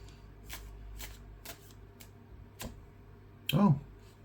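Tarot cards being shuffled close by, a string of soft regular riffles followed by a brief louder burst as a voice cuts in.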